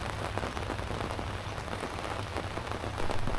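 Steady rain patters densely on a surface, close and continuous, with no voices over it.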